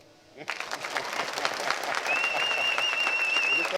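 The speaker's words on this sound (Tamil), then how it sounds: "கைத்தட்டலாம்." Applause from an audio launch audience for a film made in thirty days, starting abruptly and holding as steady dense clapping to the end, with a thin whistle joining partway through.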